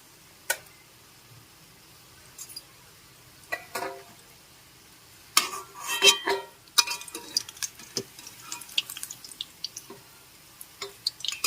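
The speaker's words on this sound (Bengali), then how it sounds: "তেল ছেঁকে তুলে নিচ্ছি" Fried raw jackfruit kofta balls are lifted out of hot oil in a kadai, giving scattered drips and light clinks with soft sizzling, sparse at first and then busier and closer.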